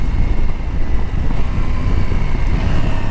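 A 2019 KTM Duke 790 motorcycle is ridden at speed, its engine droning under heavy rushing wind buffeting close to the rider.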